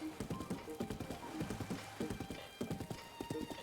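Horse hooves clip-clopping in a steady rapid rhythm in Breath of the Wild, loud and close, with a brief whinny and a low game tone beneath.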